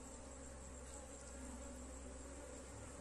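Bees buzzing steadily around a hive during a beekeeping session where a new colony is being built with tangerines, a brood frame and wax sheets; a dense, continuous close hum with no talking.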